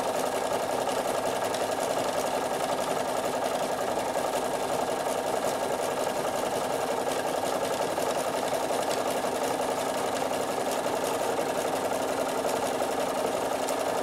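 A Bernina sewing machine stitching steadily at close range, a continuous even mechanical whir and rapid needle chatter that runs unbroken throughout with no voices.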